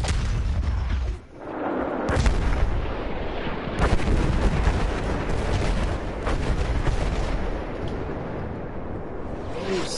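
Heavy artillery bombardment in the video game Battlefield 1, with dense, continuous booms and blasts and a near explosion partway through, loud and unbroken.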